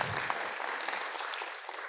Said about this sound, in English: An applause for Natalia